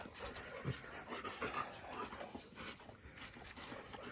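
A dog pants quickly and faintly, with soft snuffles and small whimpers mixed in.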